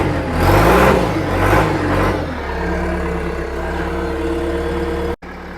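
An abandoned digger's diesel engine turns over and catches, revving loudly at first, then settling into a steady, rumbling idle that runs close up until it cuts off abruptly near the end.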